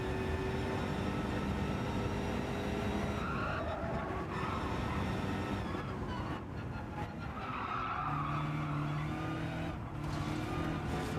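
Tyres squeal as a race car skids off the track in Gran Turismo 7 during a Manufacturers Cup round, a sustained loud screech with steady engine roar continuing throughout.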